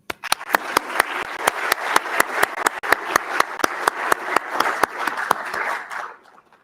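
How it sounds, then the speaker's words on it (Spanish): An audience at a presentation introducing the director of the Johns Hopkins Mathematical Institute bursts into applause, sharp distinct claps building into a full, even round before fading out near the end. "yo quisiera pedir que le diéramos un gran aplauso a él."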